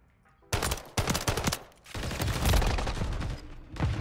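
Gunfire in a shooter video game: rapid loud bursts of shots begin abruptly after a quiet start, followed by sustained heavy firing that continues to the end.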